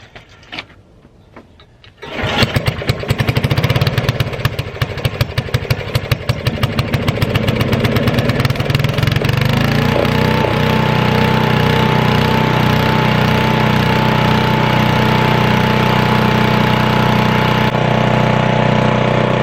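A Weldanpower 150 welder/generator combo's small engine starts up after a short quiet moment and then runs on loudly and steadily, with a rapid, chattering mechanical beat throughout and no voices.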